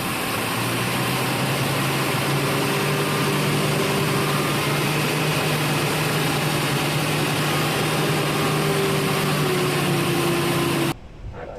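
A brand-new Helvetic Embraer E2 jet engine spools up during engine start on the ground, a loud continuous roar with a steady rising whine that runs unbroken for about eleven seconds before cutting off abruptly.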